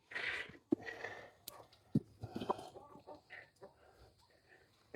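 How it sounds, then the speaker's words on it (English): Farmyard chickens crowd around a broken egg tossed out during chores, clucking softly and unevenly at close range, with a few sharp taps mixed in. "Throw it out there and let the chickens attack it."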